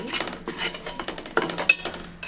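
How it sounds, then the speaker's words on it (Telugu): A ladle stirs spices such as garam masala and coriander powder in a metal pot for masala kurma, producing rapid scraping and clinking metal strokes, close and continuous with a louder clank near the end. "మొత్తం గరిటతో ఒకసారి బాగా ఇలా కలుపుకోవాలి."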